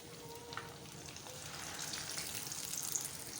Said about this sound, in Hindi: फ़िश को अच्छी तरह से फ्राई होने दें